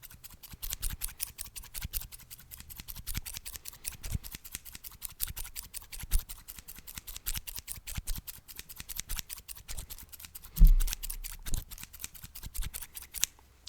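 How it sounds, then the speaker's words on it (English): Scissors snip hair during a relaxing close-up haircut, with many crisp, rapid cuts in an irregular rhythm, quiet and near, with no talking. "just a few more snips now"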